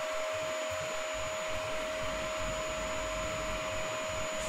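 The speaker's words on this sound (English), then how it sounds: "Ooh, that is a loud vacuum." A loud vacuum cleaner in a video game drones on continuously, a harsh steady whine with a fixed tonal hum and no pauses.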